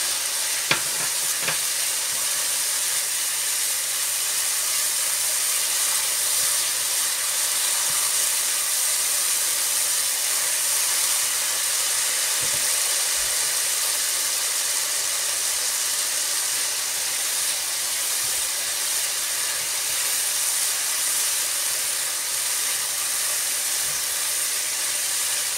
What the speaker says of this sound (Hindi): अच्छी तरह मसाले भूनने के बाद हमने चिकन डाल दी इसमें